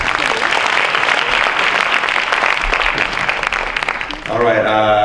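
A crowd at an awards ceremony claps loudly and continuously, a thick wash of applause that runs for several seconds before a voice takes over near the end.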